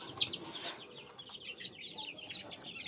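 Young chickens cluck and cheep repeatedly during eye-drop vaccination against Gumboro disease, one drop per eye, with an occasional wing flutter.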